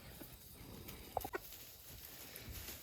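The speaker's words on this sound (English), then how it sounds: "And the chickens are happily munching away at their greens." Chickens cluck faintly a couple of times while feeding on greens outdoors on a farm, under a steady background hiss of wind and ambient noise.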